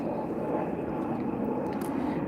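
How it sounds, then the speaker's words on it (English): An aeroplane flying overhead gives a steady, continuous low drone that fills the whole moment without easing off. It stays loud and broad throughout, with no clear voices over it. "Sorry guys for the noise from above the aeroplane"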